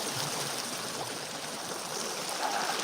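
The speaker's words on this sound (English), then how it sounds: "Look at this water coming at me." Floodwater surges through a swollen creek as a steady, close, broadband roar of rushing flow, dense and unbroken throughout with no voices.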